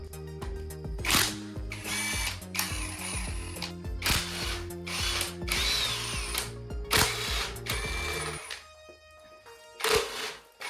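A ratchet works on the timing chain tensioner bolts of a Toyota 3ZZ engine, giving close, loud bursts of rapid clicking with mechanical ringing between them, then a short quieter pause and a final burst.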